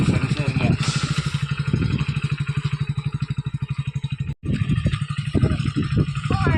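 A motorbike idles and rolls slowly in to park at the Sathanur stone-tree park, a close rapid engine thump with a brief cut-out partway through and light clatter afterward.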